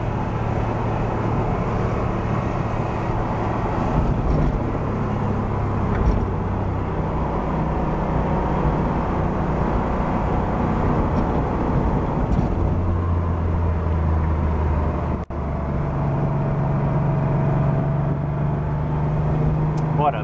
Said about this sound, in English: All in all, the engine is behaving quite nicely